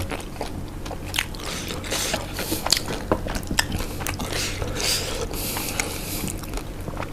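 Close-up crunchy chewing of a spicy Malaysian instant noodle snack, with steady crackling bites and grinding filling the whole stretch without talk.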